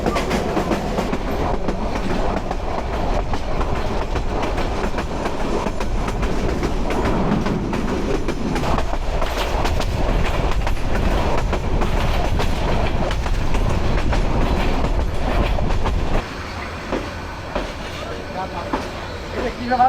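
A Kishoreganj Express intercity train runs on the rails at about 55 km/h, with a steady loud rumble and clickety-clack of wheels for the whole stretch, and a voice speaking over it.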